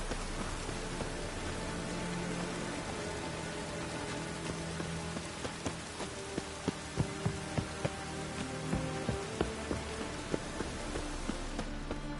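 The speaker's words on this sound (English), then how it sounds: "Rain again." Steady rain patters across a surface in The Witcher 3, with scattered louder drops ticking through the wash near the end; no voices.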